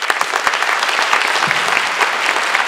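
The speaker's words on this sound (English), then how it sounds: "So let's have a big round of applause and welcome to our special guest this morning" Steady, full applause from a conference plenary audience greeting a guest speaker, a dense wash of many hands clapping close and loud throughout with no voices on top.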